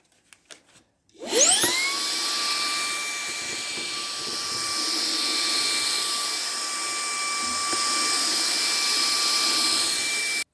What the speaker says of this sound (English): We're gonna see how well it sucks up the fine sawdust and see if it does a good job